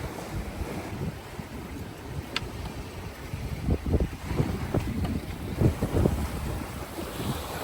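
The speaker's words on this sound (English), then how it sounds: "The waves have kind of picked up as we've gotten close to the harbor entrance." Wind and sea waves around a sailboat approaching a harbor entrance on a solo passage from Gambia toward Cabo Verde, a steady rushing roar with surging wave splashes and slaps building in the second half, no talking.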